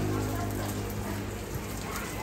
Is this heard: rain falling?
yes